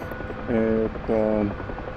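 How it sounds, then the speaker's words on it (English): A UH-1H Huey helicopter in the DCS flight simulator, played in virtual reality, gives a low rotor drone that swells twice in short bursts under a voice. "the helicopter that I'm chasing"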